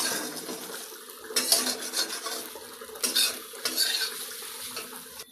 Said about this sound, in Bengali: এইরকম ভাবে চুষিগুলো আমি আস্তে আস্তে নাড়িয়ে নেব।